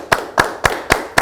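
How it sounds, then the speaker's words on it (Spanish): A few separate hand claps for a president at the Palacio de López government palace, five sharp evenly spaced claps in about a second, close and fairly loud with no voices over them. "Un aplauso al presidente."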